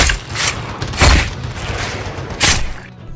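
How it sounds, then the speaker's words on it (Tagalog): Bursts of gunfire in a horror story, loud heavy booms separated by short gaps, three main blasts over a rumbling background with no voices. "nagsimula na naman ang putukan"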